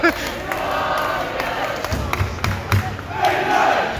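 A large football crowd chanting at an England match, a loud sustained roar of many voices with rhythmic swells and scattered shouts filling the whole stretch.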